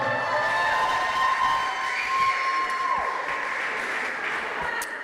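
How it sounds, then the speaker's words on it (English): A crowd at a Brooklyn pre-Puerto Rican Day Parade celebration applauds steadily, a dense wash of clapping that holds at an even level throughout with faint cheering mixed in. "Can we give El Puente a round of applause?"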